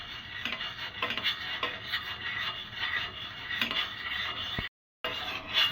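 Chocolate syrup being stirred by hand in a pan on the stove: steady, rhythmic scraping strokes of a spoon against the metal, close and moderately quiet, with a brief dropout near the end.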